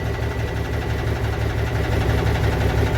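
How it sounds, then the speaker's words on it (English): A car engine idles steadily at close range, giving an even low rumble with a regular pulsing vibration and no other sounds. "while the engine's idling for 2 minutes"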